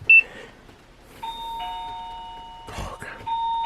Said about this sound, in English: That darn doorbell